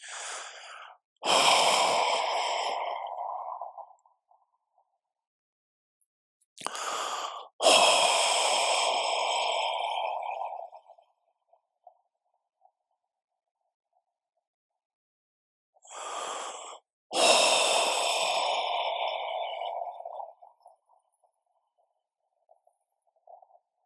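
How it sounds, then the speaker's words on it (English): Deep breaths during a guided meditation session: three slow cycles, each a short inhale followed by a long, audible sighing exhale, close and alone with silence between. "Take 3 deep breaths, sigh with relief."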